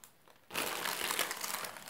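Baking paper crinkles loudly in a sudden burst as risen bread dough made from an old-dough starter is lifted on it, continuing for about a second and a half after a quiet start.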